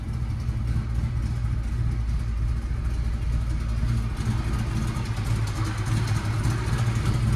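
A 1967 Camaro with a 350 V8 and four-speed idles steadily at close range, a low, even rumble with a slight lope that holds without revving throughout, with no voices over it.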